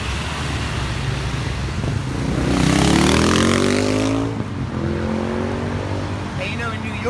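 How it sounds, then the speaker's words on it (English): A car engine rises in pitch as it accelerates past on a city street, swelling loudest mid-pass then fading, over steady traffic noise. "she just may hit the accelerator"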